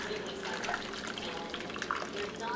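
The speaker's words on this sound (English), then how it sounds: "what I'm going to do is pour the rest of this braising fluid" Braising fluid is poured over a beef roast in a pan, giving a steady, fairly quiet liquid splashing and trickling with a few brighter drips along the way.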